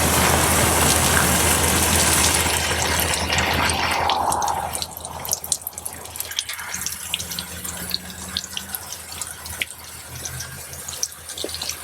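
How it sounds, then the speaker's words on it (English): Garden hose spraying water over plants in a raised bed, a loud rushing spray for the first few seconds that then drops to softer splashing and patter. "I think I'm watering myself as much as these plants here"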